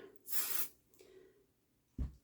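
Spray baste hisses out of an aerosol can onto quilt fabric for a Christmas pillow in one steady burst of about a third of a second, close and fairly loud, then a soft rustle of fabric and a short thump.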